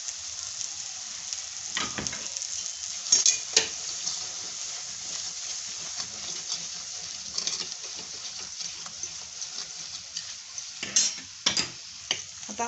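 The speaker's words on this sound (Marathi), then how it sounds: "आता आपले लाल तिखट कांदा लसूण मसाला टाकलेलं पण चांगलं परतून झाले" Red chilli, onion and garlic masala sautéing in a pan for masvadi, a low continuous sizzle with occasional clicks and scrapes of stirring, close and fairly quiet, with no voices.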